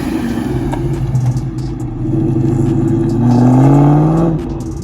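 A supercharged muscle car engine revs loudly at close range, a steady low rumble that swells into a rising, whining rev near the end, with no talk over it.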